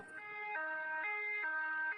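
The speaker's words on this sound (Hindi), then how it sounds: "एम्बुलेंस लाडो को लेकर अस्पताल की तरफ निकल पड़ती है" A cartoon ambulance siren wails alone in a steady, loud two-tone pattern, switching pitch roughly every half second with no voices over it.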